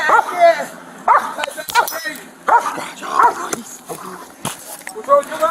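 A police K-9 dog barks and yips in short repeated bursts close by, mixed with shouting and frantic talk from a fleeing man and a deputy during a chase in Florida.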